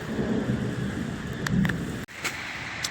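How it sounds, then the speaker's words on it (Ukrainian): Continuous rain patter on a tent on the bank of the Colorado River, Argentina, with a low rumbling thunder undertone, wind and a few sharp drips, heard from close by, steady without voices. "Вітер сильний, але дощик такий. Він побризгує, побризгує."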